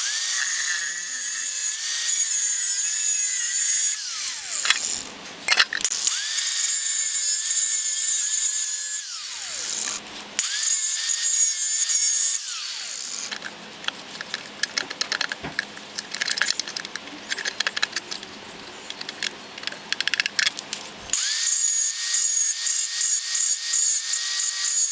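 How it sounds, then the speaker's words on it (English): An angle grinder cuts a steel bracket off a Classic Mini engine, giving a loud, close, high-pitched whine with grinding screeches that stop and start again several times, with rough chattering while it bites into the metal. "You've seen me cut the main piece of the bracket off with the angle grinder."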